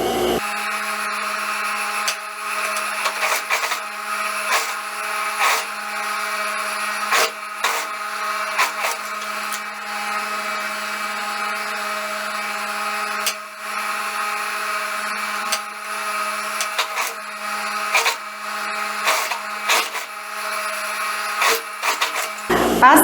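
A sewing machine runs steadily for over twenty seconds, stitching a seam on a lined skirt, with a continuous close mechanical buzz broken by small irregular clicks and rattles and no speech.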